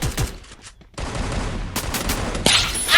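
Pistol gunfire in the video game Free Fire, a quick burst of sharp shots and rattling fire with brief gaps, loud and close, followed by more bursts near the end.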